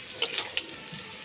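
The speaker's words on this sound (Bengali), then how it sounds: "এবার আলুটা নেড়ে দেবো" Potatoes and green chillies are stirred in hot oil for a methi aloo fry, giving a steady low sizzle with a few soft scraping stir strokes near the start, close and fairly quiet.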